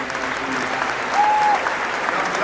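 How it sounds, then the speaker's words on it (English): Congregation at an MLK Jr. prayer service claps for Anthony, a brief, even wash of many hands with a faint voice and a short tone underneath. "Can we all clap it up for Anthony?"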